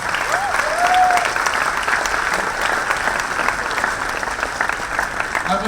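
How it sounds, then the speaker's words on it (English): Warm audience applause at a book launch for a Delhi University centenary volume, a loud, continuous patter of many hands that holds steady throughout and softens slightly toward the end, with a brief voice near the start. "let them give you a warm round of applause"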